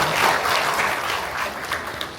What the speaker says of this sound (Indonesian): Kita beri tepuk tangan yang meriah sekali lagi Bapak Ibu.